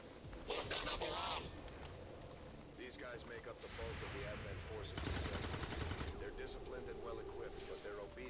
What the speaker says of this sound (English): I never knew a shotgun that can fire from that far back